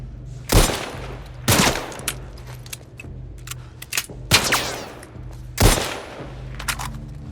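Heavy gunfire in The Last of Us Part I: four loud, separate shots or short bursts, each with a sharp crack and a rolling tail, spaced about a second or more apart over a low steady background rumble.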